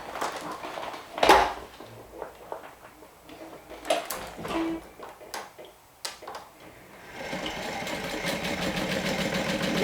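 A home sewing machine stitches fabric all around a beginner-friendly garment pattern, moving slowly on the curve. A few handling clicks and taps come first, then the motor settles into a steady whirring hum that builds and carries on to the end.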